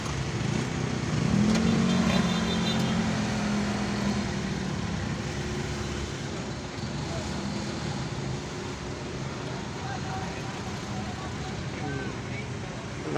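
Steady city traffic in Manila around ten o'clock rumbles with a continuous engine drone. A heavier vehicle swells briefly near the start, and a faint voice is heard now and then.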